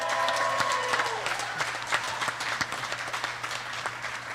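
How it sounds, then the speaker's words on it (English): An audience at a labor history panel applauds striking union workers, a steady wash of clapping from a room of people that carries on after a voice fades out. "Can we give them a round of applause?"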